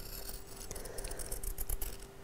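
Scissors snipping through blue quilting fabric, a run of quick close crisp cuts and rustles over a steady low hum, no talk.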